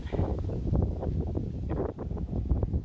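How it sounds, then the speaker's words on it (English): Gusty wind buffets the microphone in an outdoor cemetery, close, uneven roaring bursts and rustling that rise and fall throughout, fairly faint overall. "It's so windy."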